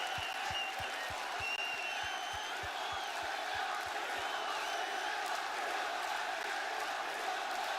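Arena crowd at WWE SmackDown roaring and cheering continuously, a dense wash of voices with a rhythmic stomping or clapping beat underneath early on, loud and sustained.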